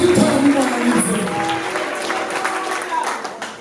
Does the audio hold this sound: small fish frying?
no